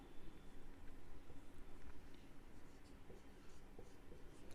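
Steady pen-on-paper writing during a Class 10 trigonometry lesson: continuous close scratching strokes across several seconds, with no talking.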